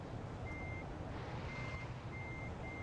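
Reversing beeps from a truck in Truck Simulator Ultimate, steady tones repeating at regular intervals over a constant low engine rumble, with no talking.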